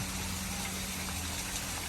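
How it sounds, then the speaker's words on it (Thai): Water rushes in a constant, dense wash at a waterfall beside a coffee shop in Mae Rim, Chiang Mai, a steady close roar with no breaks. "ด้านนี้จะมีน้ำตกเหมือนกันนะ"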